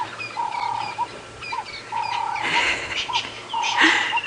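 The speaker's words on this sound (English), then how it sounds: "You've got the turtle doves in the background shouting about." Turtle doves coo in soft repeated phrases against an outdoor safari background at sunset, with brief bursts of other noise between calls.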